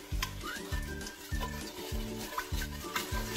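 Sugar and water being stirred in a pot with a utensil, a steady rhythm of about seven repeated scraping strokes against the pot, close and clear with no talking.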